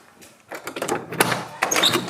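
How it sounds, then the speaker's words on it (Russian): Someone knocks on a door several times in quick, uneven raps, fairly faint and set against a quiet indoor room. "И кто же это там стучит?"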